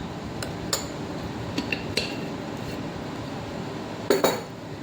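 Metal spoon clinks against a bowl while scooping homemade curd, a few sharp, close taps scattered through quiet room tone with a brief double clink near the end.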